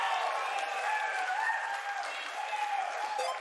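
Applause and cheering from a large audience at an E3 2019 game presentation, a steady dense roar of clapping sustained throughout at moderate distance.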